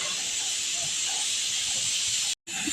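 A loud, continuous hiss of steam escaping under pressure from a pressure cooker holding dal runs steadily, cutting off for a brief moment near the end before resuming.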